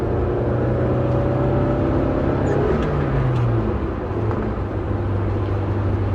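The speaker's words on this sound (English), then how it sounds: "Big rev, second gear." A car engine revs high and then drops as it shifts into second gear. The drone is loud and steady, with a rising pitch that falls away near the middle and then carries on.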